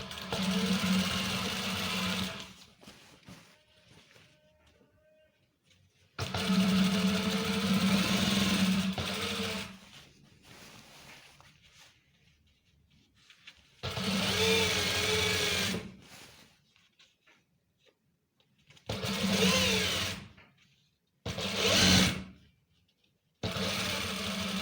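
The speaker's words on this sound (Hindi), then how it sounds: "इस तरह बड़ा एहतियात से आपने सिलाई लगाना है बुकरम के नीचे नीचे।" A sewing machine stitches a pair of police-uniform trousers just below the buckram, running in several close, loud bursts of a few seconds each, separated by quiet pauses.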